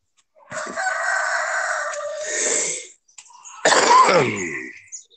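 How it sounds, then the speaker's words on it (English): A person coughs and hacks twice after smoking, a long raspy throat-clearing cough followed by a shorter harsh burst, close up with no talking. "Cough it up."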